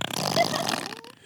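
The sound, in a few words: fart sound effect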